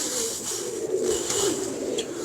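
A Sadhna pigeon coos softly and steadily up close, a low continuous murmur with slight swells, alone without talk.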